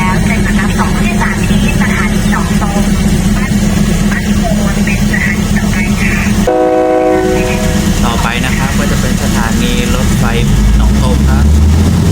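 A local passenger train rumbles past close by with a steady low roar and rattling wheels, a horn sounding partway through as it passes.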